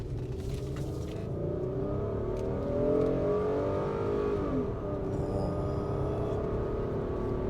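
A Kia Magentis saloon with an automatic gearbox revs up as it accelerates from inside the cabin, the engine note climbing and swelling to a peak before easing off, steady and fairly loud throughout.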